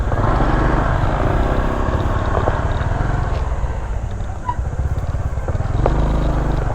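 Motorcycle engines rumble and idle nearby in a parking area at a natural pool resort, a loud continuous throb with clattering revs and brief rises and dips.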